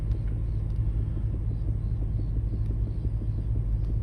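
A car engine rumbling close by, a steady low drone that holds level for the whole stretch with no speech over it.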